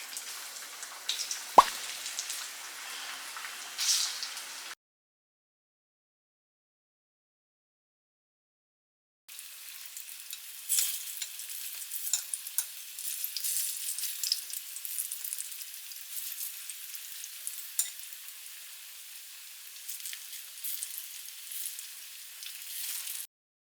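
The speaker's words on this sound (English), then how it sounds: "I'm gonna fry some plantains, some ripe plantains" Ripe plantains frying in a pan at home, giving a steady sizzle and crackle with scattered pops and drips, close and moderately loud, broken by a stretch of silence partway through.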